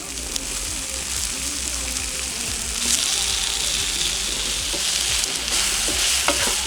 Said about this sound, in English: we just want to try and brown the sausages